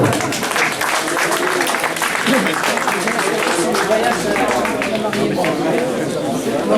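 A crowd applauds a race champion at an outdoor race event in Usseau, with sustained clapping mixed with lively chatter and voices throughout.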